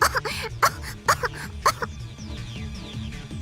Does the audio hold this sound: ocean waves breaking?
no